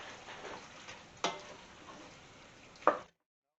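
Lobster tails being stirred with ham and tomato sauce in a pan, a soft continuous sizzle with two sharp utensil scrapes or clinks near the start and end, close by and moderately quiet.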